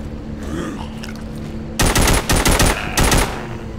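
Loud automatic gunfire from The Walking Dead video game. Quiet ambience gives way to several sharp, close bursts of rapid shots in the second half.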